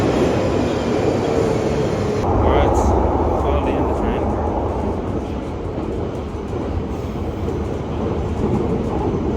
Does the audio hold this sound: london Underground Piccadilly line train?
yes